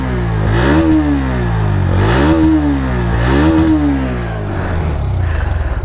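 Bajaj Pulsar NS125 with an underbelly exhaust, its 125cc engine revved three times in quick succession near the bike, each surge rising and falling back, then settling into a choppy idle.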